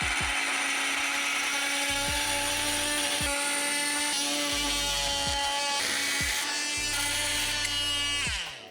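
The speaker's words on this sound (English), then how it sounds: "I have this drill bit that I could make it bigger" A power drill bit enlarges a bolt hole beside a solar panel on a van camper build, making a continuous close, loud whine with a steady pulsing rhythm throughout.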